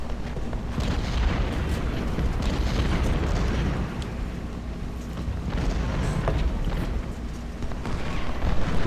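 Musket volleys and battle din in the Civil War strategy game Ultimate General: Civil War, a dense continuous rumble of massed gunfire with booming surges that swell and fade over several seconds, no talking.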